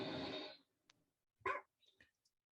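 A dog in a short demo clip gives a quick yip and some whimpering sounds after a burst of noise, a few brief separate calls, close and fairly faint, with no speech.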